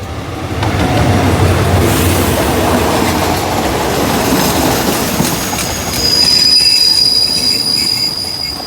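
A Thai passenger train, hauled by a GEK locomotive, rolls past with loud, sustained high-pitched brake squeal, steady rumble of wheels on rails throughout, the squeal sharpening toward the end.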